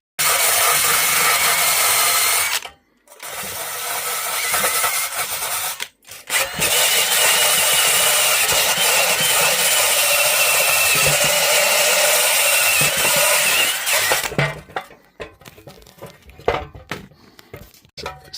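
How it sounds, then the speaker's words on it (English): Handheld drill spinning a wire brush attachment against weld slag on steel from a cheap eBay welder, loud close grinding and scrubbing in long bursts separated by brief pauses, trailing off into scattered short touches. "I might need to just try it with my wire brush attachment in my drill again."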